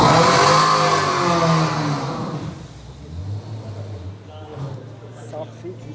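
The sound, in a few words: Red Bull Formula 1 car engine revving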